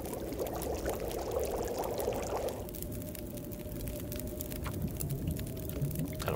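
Water pouring in The Long Dark video game, a soft, steady trickling stream that runs for a few seconds and then gives way to a quieter, hollow flowing tone, moderately faint with no talking.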